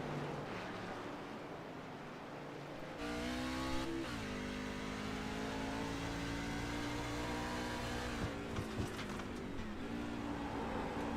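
Racing truck in a Sonoma race game roars and revs as it climbs through the gears, its engine note hopping and stuttering under load after a quiet start, loud and steady with no talk.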